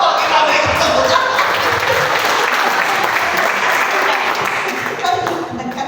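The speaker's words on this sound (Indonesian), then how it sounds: "kita berikan tepuk tangan" Church congregation applauding together, loud sustained clapping from many hands that stays full and even before easing slightly toward the end.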